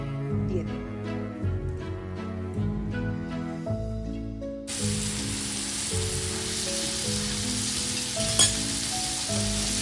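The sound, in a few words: marinated shrimp frying in hot oil in a pan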